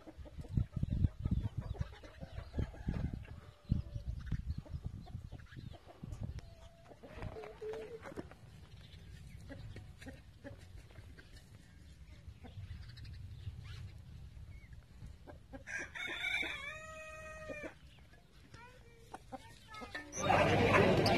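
Chickens cluck faintly, with a rooster crowing briefly near the end, amid the chatter and bustle of a Casablanca bird market selling Brahma chickens and ornamental birds. Voices talk throughout.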